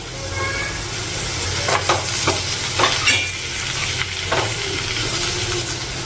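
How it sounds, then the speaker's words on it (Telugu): Chopped capsicum fries in a pan with spices, producing a continuous close sizzle broken by repeated scraping strokes of a spoon stirring through it. "ఇప్పుడు క్యాప్సికమ్ వేసుకోవాలండి."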